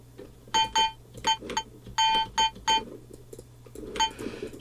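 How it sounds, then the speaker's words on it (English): A bell sample stacked in a trap metal beat, struck in a rhythmic pattern of sharp, bright hits with ringing tails, loud and close over a low synth hum. "I'm gonna take this bell and I'll stack it on top"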